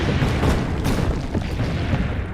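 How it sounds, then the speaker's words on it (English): Cannon fire in the Assassin's Creed: Brotherhood video game, a dense, continuous rumble of booming blasts that stays loud and steady throughout with no clear gaps between shots. "We can't hear you over the sound of the cannon."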